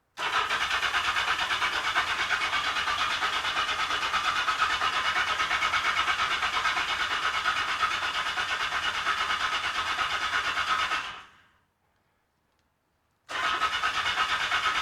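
A Yamaha XS11 motorcycle engine is cranked over by its starter without spark plug leads to build oil pressure, a steady whirring churn that runs about eleven seconds, cuts to silence, then starts again.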